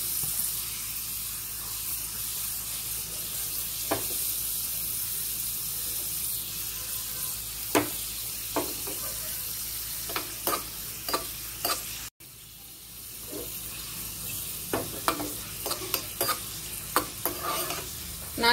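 Perandai (adamant creeper) fries in ghee for a thuvayal while it is stirred, giving a soft, steady sizzle with intermittent scraping strokes of the spoon and a few sharper clinks, all fairly faint.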